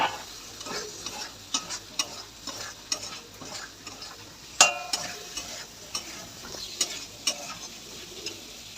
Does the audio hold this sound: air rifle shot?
no